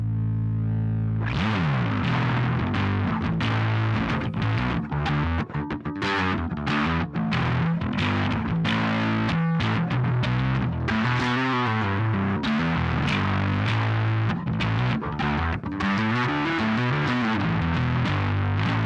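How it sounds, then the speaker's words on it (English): An electric guitar played through a thick fuzz pedal, loud and saturated, with buzzing sustained chords and choppy strummed bursts throughout. "That's when you know the fuzz is about to happen."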